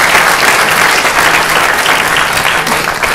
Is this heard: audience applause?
yes